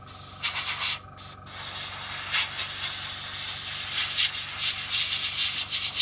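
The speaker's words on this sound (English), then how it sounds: "change the angle I'm spraying at" An airbrush sprays Vallejo chipping medium onto a scale model, a steady close hiss with a short break near the start, running alone and continuously as the spray angle shifts toward the panel grooves.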